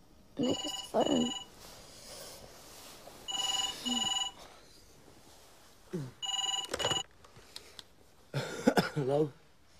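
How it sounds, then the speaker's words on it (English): A telephone rings in repeated double bursts at regular intervals, clear and fairly close, with a brief cough or murmur between the rings. "Nick, it's the phone."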